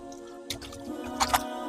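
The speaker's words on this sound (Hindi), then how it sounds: "चिकन अच्छे से हमने वॉश कर लिए।" Raw chicken pieces washed in a pot of water for a KFC-style fried chicken recipe: wet squishing, sloshing and a few drips against a steady background hum, no talking.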